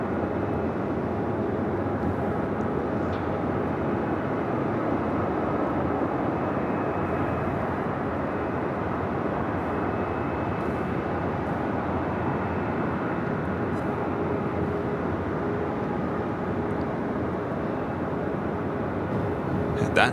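An American Airlines Boeing 737-800 takes off on runway 25 right at Los Angeles airport. The engines give a steady, broad roar that holds at the same loudness for the whole twenty seconds, heard from a distance.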